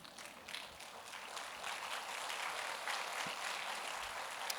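Applause from an audience in church, a faint, steady wash of clapping that swells slightly and carries on without a break.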